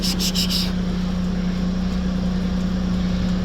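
A 1998 Mitsubishi MiniCab 4x4 dump truck is being driven, its small engine holding a steady low drone throughout, with a faint high whine at the very start.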